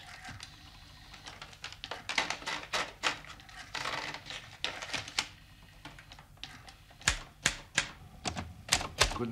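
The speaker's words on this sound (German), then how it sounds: "Natürlich hat er eine Schreibmaschine." A Nova 2000 typewriter clacks in quick, uneven bursts of sharp key strikes, some louder than others, with short pauses between runs, close up in a quiet room.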